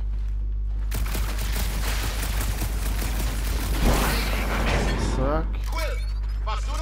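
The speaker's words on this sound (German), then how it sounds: "Ich hab auf was geschossen" Gunfire from the video game Marvel's Guardians of the Galaxy: a rapid burst of shots with a heavy boom midway, followed by lighter mechanical clatter as the firing trails off.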